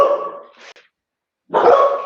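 Dogs barking loudly indoors, two short bursts of barks separated by a brief silence.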